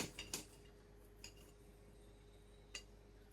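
Knife and fork on a plate while cutting steak, a few faint metallic clinks and scrapes spaced out over a quiet background, no one speaking.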